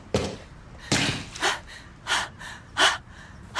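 A woman pants loudly in a series of sharp, ragged breaths, about six bursts spaced unevenly over a few seconds, close to the microphone with no talking.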